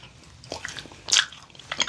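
Close-up crunchy bites and wet chewing on a sour apple coated dried date, a few soft chews building to a loud crisp crunch, then more chewing, with no talking.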